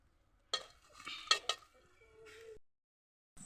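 Hot chilies tossed into a pot to be fried until slightly charred: a few sharp clinks and scraping stirs with brief sizzling, close and fairly quiet, ending in a short silence before one more scrape.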